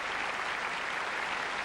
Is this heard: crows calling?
no